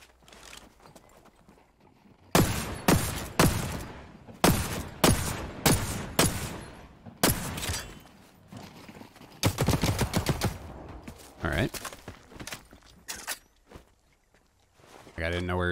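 Gunfire in The Cycle: Frontier, a semi-automatic PKR Maelstrom shotgun among the weapons, comes as loud, sharp bursts of rapid shots spread across the span, with quieter gaps between clusters and some voice chatter mixed in.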